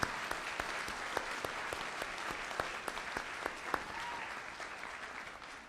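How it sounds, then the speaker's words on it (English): Applause from a church convention audience, a moderate crowd clapping with individual sharp claps standing out in an uneven rhythm, sustained and fairly distant. "So your applause would affirm."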